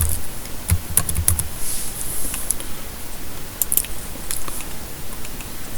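A password is typed on a computer keyboard during a Q4OS Linux session, producing a scattered run of light, crisp key clicks in small bursts with short pauses between them.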